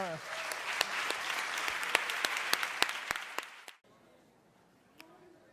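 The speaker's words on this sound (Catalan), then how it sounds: "Crec que us mereixeu un fort aplaudiment, no?" Audience applause at a Catalan conference presenting a report on sexual violence, a dense wash of clapping with sharp individual claps standing out, stopping abruptly near the end and leaving near silence with a faint stray sound.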